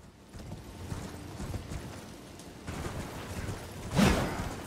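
A horse ridden in the video game Elden Ring gives off a soft, rhythmic clip-clop of hooves. It is mixed with game ambience and ends in a louder burst.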